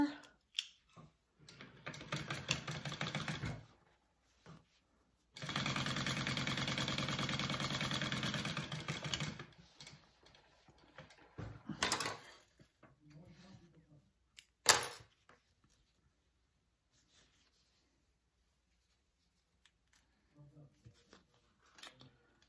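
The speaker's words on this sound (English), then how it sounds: "we're just gonna sew our raw edges into the center" A sewing machine stitches the raw edges of fabric toward the centre with a steady whirring run of a few seconds, between stretches of talking and handling noises.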